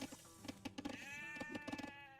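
Sheep bleating in the video game Age of Empires II, a long wavering bleat rising over a busy background of repeated game sound effects.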